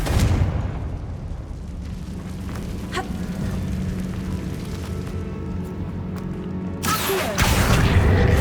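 A Confringo fire spell from Hogwarts Legacy bursts in a low, rumbling blast under a steady deep game-music drone, followed by a sharp, louder crackling impact near the end.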